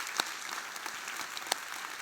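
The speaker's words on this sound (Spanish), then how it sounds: "Sí, dale un aplauso al Señor" A church congregation applauds at an Easter service, a fairly faint, even wash of clapping with a couple of sharper claps standing out.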